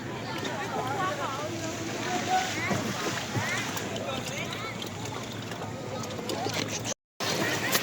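Fast-flowing river water rushes continuously during a rafting trip in Nakhon Nayok, with broadband splashing and wind noise throughout and people shouting over it.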